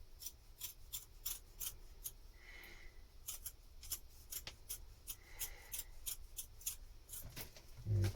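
Scissors trim a piece for a Shetland project with a steady series of close, crisp snips, some in quick pairs, alongside soft rubbing and a dull thump at the end, with no talk.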